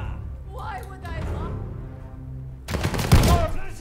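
Gunfire from the video game Call of Duty: Vanguard bursts out in a loud, dense fusillade of rapid shots near the end, after a stretch of background noise, with a voice speaking over it.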